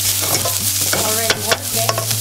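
Vegetables stir-frying over high heat for pad thai, a steady sizzle with a constant hum beneath and a few sharp clanks of a utensil against the pan, no voices.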